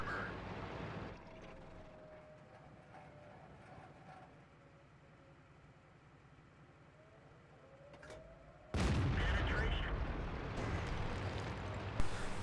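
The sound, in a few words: tank gun firing in World of Tanks video game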